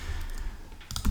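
Code being typed on a computer keyboard: a soft, steady patter of key clicks, followed by a slightly louder cluster of keystrokes at the end, close up and with no talking.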